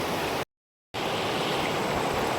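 Overflow water pours from a completely full village dam at Vhel, a loud, continuous roar of rushing water close by, broken once by a brief silent gap before the steady torrent resumes.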